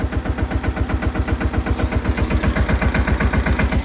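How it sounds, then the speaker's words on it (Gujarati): A tractor engine idles close by on a farm, its low, even chugging pulsing in a steady rapid rhythm for the whole stretch, with no talk. "ટ્રેક્ટર કરી દીધું ચાલુ"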